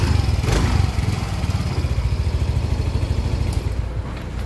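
Honda Mio i 125 scooter engine idling steadily after a fuel filter replacement, a close, continuous low putter with an even rapid pulse throughout.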